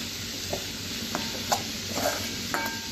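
Drumstick flowers and greens sauté uncovered in a pan, giving a soft, steady sizzle with a few faint stirring scrapes and small pops spread across the moment, close and quiet, with no voices.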